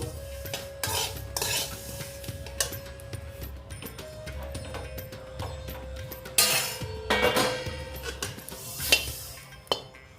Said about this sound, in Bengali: এবার আমি তিলগুলো একটা পাত্রে ঢেলে নেব